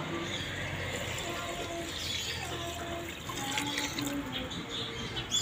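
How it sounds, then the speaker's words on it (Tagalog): Water pours into a pan of simmering adobong atay (chicken liver adobo with soy sauce, vinegar and pepper), a steady splashing and trickling at close range with faint kitchen noise, no talk. "Pwede nyo na yung lagyan ng tubig."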